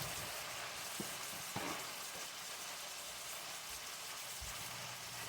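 Sausage, peppers and onion frying in their own grease in a pan, a steady soft sizzle and spatter with a couple of faint clicks, fairly quiet and close, no talking.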